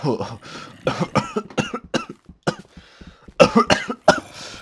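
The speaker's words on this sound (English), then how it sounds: "okay, now they're fake coughs." A person fakes a string of short, throaty coughs, voicing them in uneven bursts over about five seconds while playing Minecraft, close to the mic.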